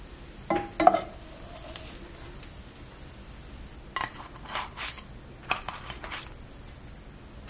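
Onions and cheese cooking on Big Mac taco meat in a pan, a faint sizzle under sporadic scraping and clinks of a utensil scooping and stirring, with no talking.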